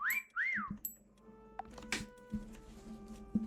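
Two short rising-falling whistle tones in a Roblox game of Meccha Chameleon, followed by scattered clicks, taps and brief electronic beeps from the game.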